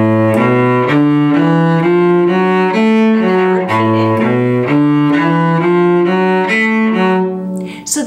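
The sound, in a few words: cello playing the third phrase of a bluegrass tune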